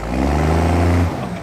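A 1st gen Cummins truck off-road revs hard while its wheels spin, a loud low diesel roar that holds steady and then drops off near the end.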